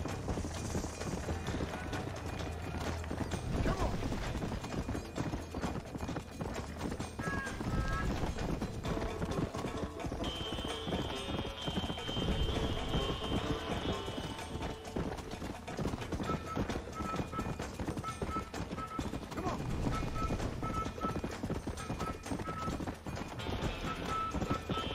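A horse gallops in Red Dead Redemption, its rhythmic hoofbeats steady throughout amid game ambience and occasional tonal effects, with a voice talking over it at times.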